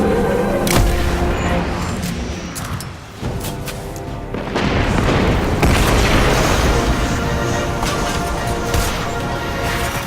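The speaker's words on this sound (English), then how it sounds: "I'm gonna get eyes on that explosion" Video game explosion in Destiny 2 Forsaken: loud booming blasts with a rumbling, debris-like roar that swells, dips briefly, then surges again and sustains, heavy and close throughout.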